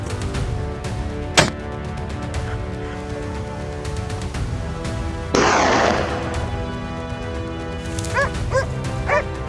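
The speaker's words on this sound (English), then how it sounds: "the forest erupted into a thunder of barks, bullets, and breaking branches" Hunting hounds bark in repeated, loud bursts while chasing wild boar in the Louisiana brush. A sharp crack and a noisy rush break into the barking, and yips and whimpers follow near the end.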